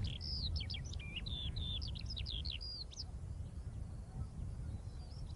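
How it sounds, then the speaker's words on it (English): A skylark sings on Welsh heathland upland, a rapid, continuous run of high trilling and warbling notes, clear and fairly close, over a low steady background rumble with no voices. "Skylark, yeah. Lovely bird, isn't it? Very loud and very noisy."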